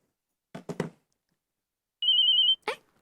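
A telephone gives a single short electronic trill of about half a second between short bursts of speech, close and clear against an otherwise silent background.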